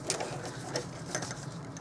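A sewing machine stitches a simple cotton slip with elastic waist, a fast, steady mechanical whir with regular needle clicks, close and continuous for under two seconds.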